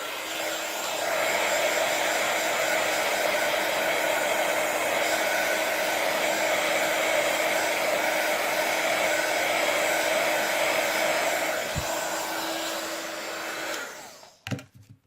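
A handheld hair dryer blowing hot air to dry ink on a rhodoid sheet, a loud steady whirring drone lasting over ten seconds before switching off abruptly near the end.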